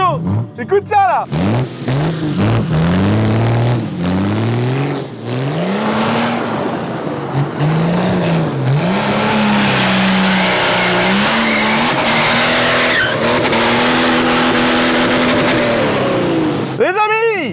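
A car engine revs hard through rising and falling sweeps, loud and close, as the car pulls away and drives on with sustained engine drone and repeated throttle changes; voices are faintly present.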